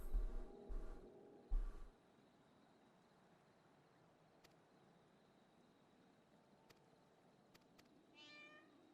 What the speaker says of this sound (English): There you go, there's cat.